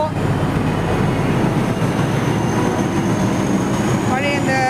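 An old WDM diesel locomotive hauls the Thiruvananthapuram weekly express past platform 10 at Chennai Central. A loud, continuous rumble and rattle roar close by, and a brief tonal horn-like wail rises near the end.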